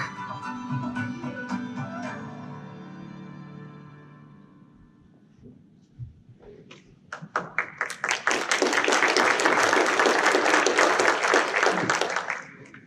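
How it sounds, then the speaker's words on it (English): Applause from the audience at a 2019 State of the City speech swells after a brief quiet, a dense, loud clapping that follows a stretch of spoken remarks. "I noticed all the representatives of municipal government clapped the loudest"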